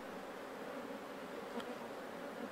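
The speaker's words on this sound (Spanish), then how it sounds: "Día a día, las abejas fabrican miel en las colmenas." A steady, dense drone of many honey bees buzzing together at their hives, continuous and even, with no voices over it.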